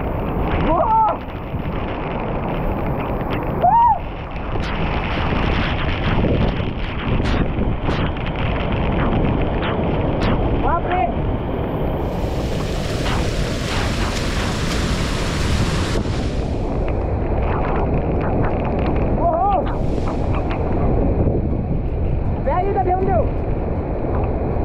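Nanemachi waterfall roars in the Sahyadri hills, heard as a dense, continuous broadband rush heavily buffeted by strong wind on the microphone. A voice speaks briefly over the din.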